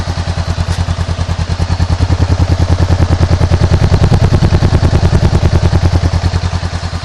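A Honda CBR500R motorcycle engine idles close up during break-in, a loud, steady, deep rhythmic thrum with no voices.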